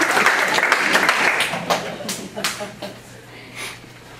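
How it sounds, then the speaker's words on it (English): A campus audience at a Black History Month ceremony at Yuba College bursts into dense, loud applause that thins after a second or so into scattered, fading claps. "give yourself another round of applause"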